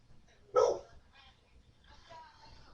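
A dog named Odin gives one sharp, close bark, followed by softer murmuring sounds in the background.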